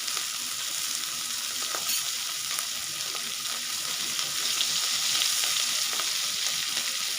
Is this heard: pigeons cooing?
no